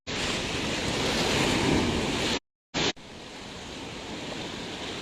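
Ocean surf pounds a seaside road eroding on the beach at Desa Cilellan, where the concrete wave barrier is broken. A loud, steady roar of breaking waves and wind is cut by a brief dropout, then the roar resumes.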